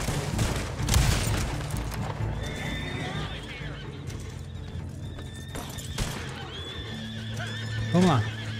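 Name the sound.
horses neighing and hooves clip-clopping in Red Dead Online video game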